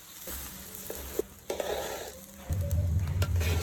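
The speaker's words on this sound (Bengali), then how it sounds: "কলার চাল মুগ ডাল ধুয়ে দিয়ে দিলাম, ভালো করে নেড়ে চেড়ে ভেজে নেব।" Washed rice and mung dal frying in a pan while being stirred: a close, uneven sizzle with scraping strokes and a couple of sharp knocks, growing louder and denser near the end.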